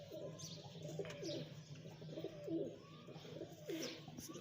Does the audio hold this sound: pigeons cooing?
yes